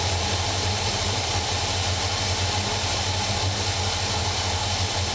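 A carburetor-tuned engine idles steadily with the ignition advance plugged back in, giving a continuous close, even idle rumble with a slight vibration and no speech.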